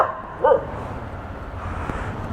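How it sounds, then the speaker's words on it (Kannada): A single short dog bark rings out once, fairly faint, over steady road and wind noise during a motorbike ride to Bisle Ghat. "ನಾಯಿ ಬೈತಾ ಇದೆ."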